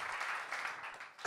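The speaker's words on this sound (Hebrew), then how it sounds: "מחיאות כפיים כפולות ומכופלות" Audience applause at a drummers' festival, a short burst of steady clapping from a crowd that fades toward the end.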